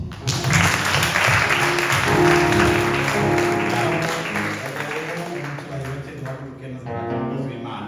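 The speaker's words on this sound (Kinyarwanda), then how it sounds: "twanze dukoma amashyi" A church congregation in Stockholm claps in sustained applause for several seconds, loud and dense at first and thinning toward the end, with some speech mixed in.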